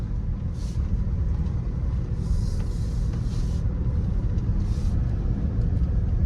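A GMC Yukon rolls along on a test drive, heard from inside as a steady low engine and road rumble with a few faint brief hisses above it, and no talking.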